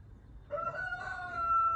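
A rooster crows one long, drawn-out call on a morning in a Bosnian village, clear and fairly close above a low rumble of background noise.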